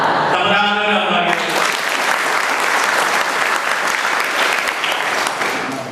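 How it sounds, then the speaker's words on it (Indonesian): Students at an SMK vocational school motivation session break into loud, dense applause that follows a brief sung or chanted phrase and holds steady for several seconds, filling the room. "Tepuk tangan dulu lagi"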